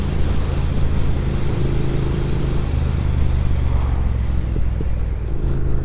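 A Triumph Speed Twin motorcycle on Michelin Road 6 tyres rumbles along at a steady cruise, its engine drone loud and continuous with wind noise throughout.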